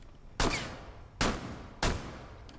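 Three single gunshots in the video game Rainbow Six Siege, fired from behind a deployable shield, each a sharp loud crack with a short decaying tail, spaced under a second apart.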